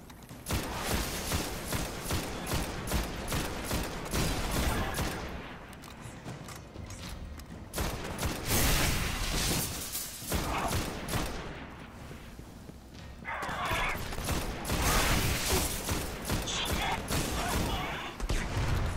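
A fusion rifle in a shooter game fires in repeated charged bursts, dense crackling volleys with mechanical clatter between them, loud and steady across the stretch with brief lulls.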